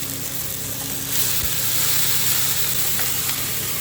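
Onion paste sizzles steadily in a hot pan while rupchanda fish do-piaza is being made, a close, continuous frying hiss that rises slightly partway through.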